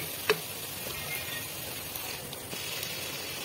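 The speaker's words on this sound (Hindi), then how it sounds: "देखिए, प्याज लाइट ब्राउन हो रहे हैं हमारे" Onions frying in a pan on a medium flame, a steady soft sizzle and hiss that carries on evenly, broken by a brief clink or stir near the start.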